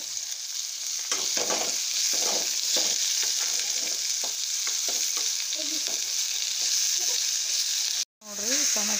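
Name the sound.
tomatoes sizzling and being stirred in frying pan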